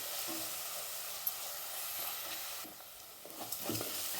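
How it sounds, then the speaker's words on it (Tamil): Garlic sautés in a pan with onions for a potato and mochai masala, a soft steady sizzle broken by occasional stirring scrapes near the end, with no voices. "நல்லா பூண்டு வதங்கி வருது."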